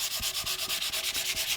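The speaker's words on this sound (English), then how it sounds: "lightly sanding" Steady back-and-forth rubbing of 400-grit sandpaper on an electric violin's wooden body, light and even strokes in a quick regular rhythm, close up with no talking.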